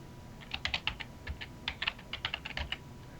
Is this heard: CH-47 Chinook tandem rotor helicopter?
no